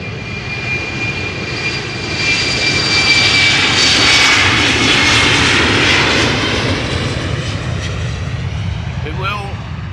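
Surinam Airways Airbus A340 jets at Amsterdam Schiphol give a loud, sustained engine roar that swells in the middle and holds steady, with a faint whine on top and a brief chirp near the end.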